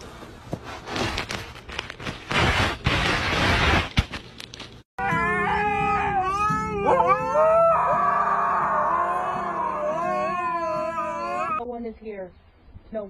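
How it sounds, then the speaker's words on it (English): A dog lets out long, wavering howls and yowls that rise and fall for several seconds. Before them comes a stretch of rustling, noisy commotion, and the howling breaks off near the end. "Stop barking."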